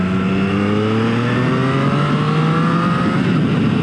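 A 2021 Triumph Street Triple R motorcycle pulls hard from about 4,000 RPM, its engine note climbing steadily and loud for several seconds with no talk over it.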